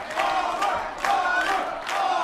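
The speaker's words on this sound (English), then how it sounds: "The crowd is going crazy." Crowd at a poker tournament cheering and shouting, a dense roar of many voices that swells in waves, loud and continuous throughout.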